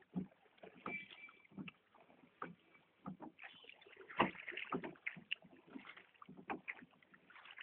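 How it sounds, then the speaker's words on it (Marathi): Oars dipping and pulling through water beside a rowing boat, a loose rhythm of splashes and knocks with some louder strokes, faint wind and no talk. "ते वल्हवतात दादा. पाणी कसं फेकतात ना त्याची."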